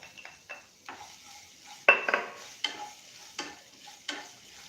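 Chilli and ginger roasting in a pan over a gas flame, stirred with a utensil that clinks and scrapes against the metal in irregular bursts, close up, with no voices.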